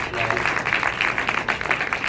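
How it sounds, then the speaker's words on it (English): Audience applause for a panel, a steady wash of clapping throughout the short stretch, moderately loud with no voices over it. "let's give our three panelists a round of applause for this"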